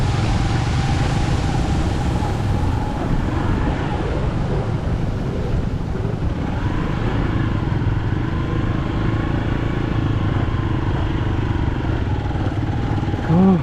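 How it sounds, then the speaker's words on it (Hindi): A motorcycle engine drones steadily and loudly throughout, a continuous close-up rumble mixed with wind buffeting, with no pauses, on a mountain road on the Kailash Mansarovar route. "आवाज़ देखो कितनी आ रही है बाइक में मेरी।"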